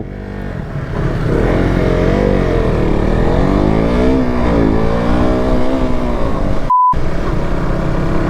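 On the bends of a hill-station ghat road near Kodaikanal, a sports motorcycle engine drones loud and close, rising and falling in pitch as it takes the curves, with a brief electronic beep near the end.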